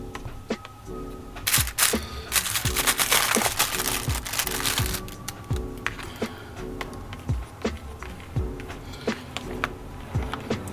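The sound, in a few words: stirring Saffron Road butter chicken in its tray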